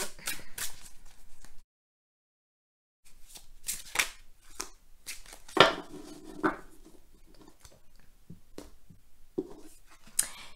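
Tarot cards from a Nicoletta Ceccoli deck shuffled and drawn, giving soft papery riffles and flicks in bursts with a short silent gap, close and quiet.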